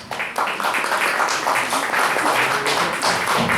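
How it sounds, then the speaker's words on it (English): Loud, sustained audience applause for a poet at an open-mic poetry night, a dense, even roar of many clapping hands with a few louder claps standing out, close and continuous for several seconds. "Let's all give a big round of applause for our next poet."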